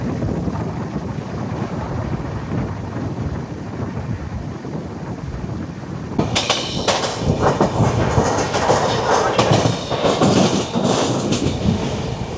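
The Sealdah New Delhi Rajdhani Express runs alongside at speed, a continuous rushing roar with wind buffeting that grows into louder rhythmic clatter and clanks midway through, close and without speech.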